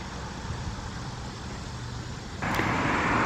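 A car approaching along a road where a land turtle is crossing, heard as a steady broadband engine and tyre rumble that swells abruptly louder near the end as it draws close.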